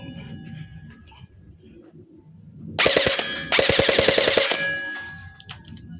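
Toy gel blaster rifle, a Jingji SLR V5 with a metal gearbox, firing bursts of rapid mechanical clacks and whirring gearbox bursts that start abruptly mid-clip, loud and close, over a quiet room background.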